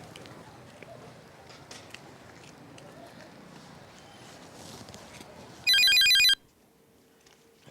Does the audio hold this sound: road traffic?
no